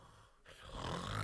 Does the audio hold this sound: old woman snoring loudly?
yes